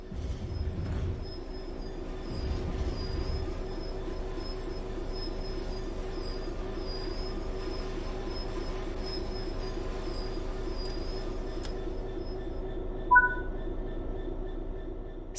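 A diesel train in Train Sim World 4 rumbles steadily with rail noise and a faint high wheel squeal throughout, closing with a short brief tone near the end.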